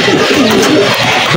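A racing pigeon just home from a race, its back marked with paint, coos in a steady, fairly loud stream against a dense, noisy background for about a second and a half.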